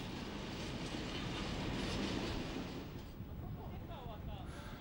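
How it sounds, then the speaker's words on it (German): A heavy Soviet-built diesel locomotive of the Taigatrommel type rumbles past at a Polish railway depot, a dense low roar with rail clatter that fades somewhat toward the end, while a narrator speaks over it. "Fast jedes Betriebswerk in Polen beheimatet die schweren Dieselloks."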